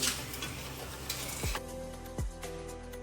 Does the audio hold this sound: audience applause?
no